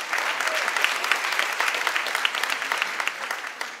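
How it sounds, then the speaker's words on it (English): An audience at an elementary school Christmas concert claps steadily and warmly, a dense burst of applause that fills the room from start to finish. "a round of applause for our amazing MCs, Ryan and Eliane."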